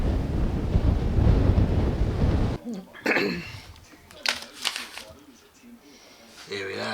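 Large ocean waves crash near a river mouth at a beach in Gisborne, New Zealand, a loud roaring wash mixed with heavy wind buffeting the microphone, then fading under talk and quieter background rumble.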